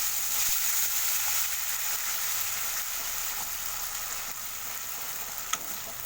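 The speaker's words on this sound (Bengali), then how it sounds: "এটাকে একটু ভাজতে থাকবো" A paste of cumin, dried chilli, ginger, garlic and chopped tomato frying in a pan, giving a steady, even sizzle that holds throughout, close and moderately loud, with no talk.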